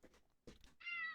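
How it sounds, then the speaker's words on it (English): A domestic cat gives a single short, clear meow close by but quietly at the end, after a couple of soft murmuring sounds. "Oh, there's a cat."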